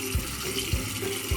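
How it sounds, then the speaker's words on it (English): Warm tap water running steadily while fresh eggs are washed in a sink, a continuous close splashing stream with a few soft low thumps at regular intervals, no voices. "Wash with warm water and use detergent or vinegar to clean the eggs."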